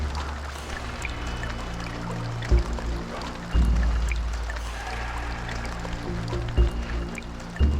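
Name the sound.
water pouring in the video game Soul Reaver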